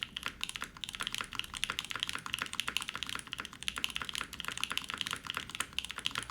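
Rapid mechanical keyboard typing on an aluminum plate, steady and continuous, with a deep, muted thock to each keystroke, close up and with no voices.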